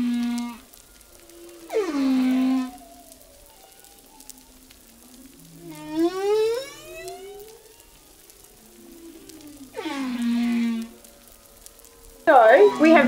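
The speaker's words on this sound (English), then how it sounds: "We have the hydrophone down right now, which is basically a microphone that goes underwater, and we can listen to the whales" Whale song picked up by a hydrophone lowered from a charter boat: long, clear moaning and rising whooping calls in separate phrases spaced a few seconds apart, loud and close over a quiet underwater background.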